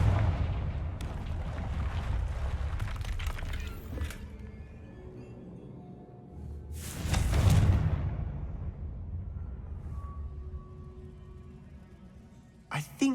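Explosive Confringo fire spell in Hogwarts Legacy, a single loud booming burst midway through, set against a rumbling background of earlier spell and blast noises.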